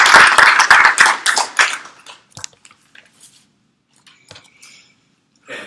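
A small audience claps in a brief, close burst of sharp individual hand claps that quickly thins out into a few scattered claps and taps, then near silence with one last clap.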